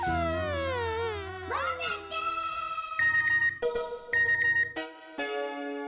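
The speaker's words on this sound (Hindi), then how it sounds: "मेरा फोन SMS आया।" A mobile phone alert tone chimes out in a classroom, a bright electronic melody of stacked tones with several short repeated beeps, loud and close, with brief crying-like and childish vocal sounds mixed in.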